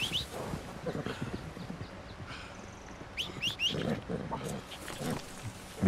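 Horse hooves clip-clopping in the Red Dead Redemption 2 video game, in scattered beats over game ambience with animal calls and bright chirps, while someone talks over much of it.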